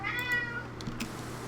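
A cat meowing in the video game Pathfinder: Kingmaker, one short, close meow with a falling pitch over a steady low background hum.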